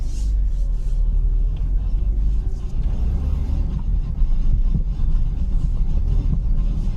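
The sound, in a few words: BMW E36 328i driving a lap, suspected front diff bushing noise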